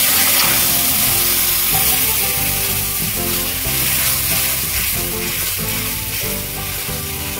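Spice paste for a shol fish curry with raw mango is poured into hot oil after the tempering, setting off a loud, steady sizzle that runs unbroken under background music.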